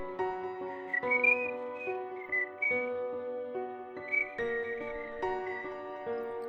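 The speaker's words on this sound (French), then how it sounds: "j'ai entendu quelqu'un siffloter à mon oreille, et j'ai reconnu le générique de ce fichier dessin animé" Someone whistles a cartoon theme tune alone, a clear, melodic line of bright sustained notes and short phrases moving up and down in pitch at a soft, close level.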